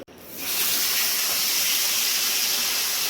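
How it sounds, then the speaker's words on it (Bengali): Mustard oil heats in a wok before fish is fried. After a quiet start, a loud, continuous close-up hiss of bubbling oil rises within half a second and holds steady to the end. "কড়ায় সর্ষের তেল দেওয়া হয়ে গেছে গরম হয়ে এবার ফুটছে"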